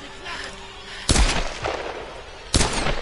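Pistol shots in a shooter game, two sharp loud cracks about a second and a half apart, each trailing off, with faint voices and game ambience beneath.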